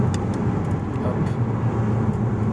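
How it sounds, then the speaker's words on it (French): A Porsche 987 with a 2.7-litre flat-six engine runs steadily and loudly in a car, a continuous low engine drone with a faint higher hum, heard alone without talk. "Le Flatty c'est drôle, ça fait un bruit de gros moulin quoi."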